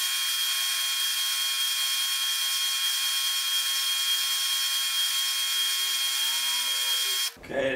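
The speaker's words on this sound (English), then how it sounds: "we're at the drill press. I got it set up with the drill and so forth" A drill press drills a small hole, giving a steady high electric motor whine that holds evenly for several seconds before cutting off abruptly at the end.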